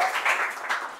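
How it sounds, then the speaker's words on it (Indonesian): Brief audience applause from a gathered crowd, a dense burst of many hands clapping that rises and eases within a second. "Beri tepuk tangan dulu dong semuanya."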